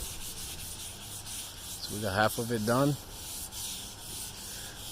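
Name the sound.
sanding the inside edge of a car hood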